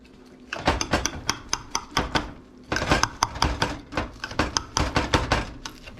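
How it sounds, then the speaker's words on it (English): A utensil cuts through tater tot casserole in a pan, producing a run of sharp scraping and clattering strokes in irregular bursts, close and fairly loud, with a short pause partway through. "we're gonna cut it now, folks."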